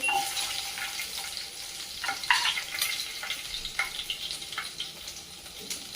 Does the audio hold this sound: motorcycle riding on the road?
no